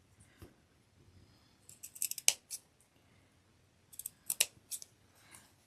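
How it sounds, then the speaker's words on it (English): Sharp scissors snip small triangular notches into fabric close up, two quick clusters of crisp metallic cuts separated by a short quiet pause, with no talking. "So we're going to do a notch. which is just a little triangle. You want to cut up to the thread,"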